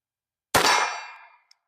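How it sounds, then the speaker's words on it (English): A bullet fired from a CVA Scout rifle strikes a steel plate, giving one sharp, bright metallic clang that rings out and decays over about a second, followed by a tiny faint tick. "as long as we're hitting the plate, we're not having any problems"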